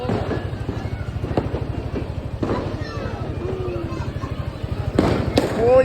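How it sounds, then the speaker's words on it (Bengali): Fireworks and firecrackers burst overhead at a New Year celebration, with repeated sharp pops and crackles against a steady rhythmic engine-like thrum, while people talk nearby. "এখন দেখ উপরে আতশবাজি ফুটতাছে"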